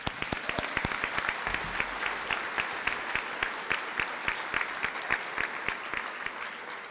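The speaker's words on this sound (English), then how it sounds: "and they deserve their own round of applause too." Crowd applause at a 2023 high school graduation ceremony in Granby, Massachusetts: a sharp scatter of individual claps thickens into a steady round that carries on for several seconds, then tapers slightly.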